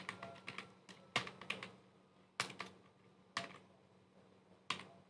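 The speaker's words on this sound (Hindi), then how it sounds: "पहला ऑप्शन टाइप करेंगे" Typing on a computer keyboard, close and fairly quiet, with bursts of quick key clicks separated by short pauses and a few sharper louder keystrokes.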